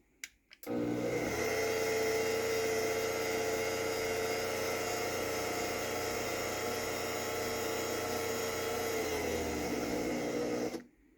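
A Craftsman 139.53918D garage door opener runs steadily for about ten seconds with a loud, even motor drone and whine that starts abruptly and then cuts off.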